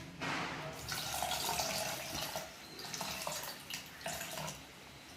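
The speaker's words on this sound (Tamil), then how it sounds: "கொஞ்சமாக தண்ணி ஊற்றி" Water is poured into a cooking pot of beef with ginger-garlic paste, salt and turmeric, a quiet steady splashing stream lasting a few seconds, close by and with no voices.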